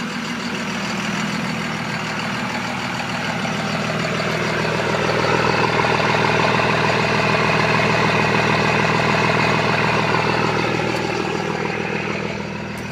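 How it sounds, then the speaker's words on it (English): A lifted 2nd gen Cummins 24v diesel pickup with a 6-speed and MagnaFlow exhaust idling close by, a steady low rumbling clatter that rises slightly midway and holds, with no talking. "We'll let you hear that MagnaFlow exhaust real quick."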